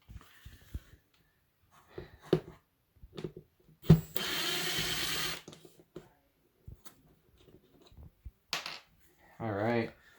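A cordless drill backs Phillips screws out of an old Honda Civic door panel in a garage, making a loud whirring burst and a shorter ratcheting spin among scattered clicks and handling knocks.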